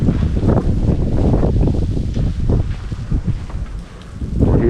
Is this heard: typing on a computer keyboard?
no